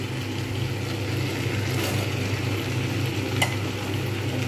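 Eggplant and taro fry in a pan for an Indian-style curry, giving a continuous moderate sizzle with occasional stirring scrapes over a steady low kitchen hum.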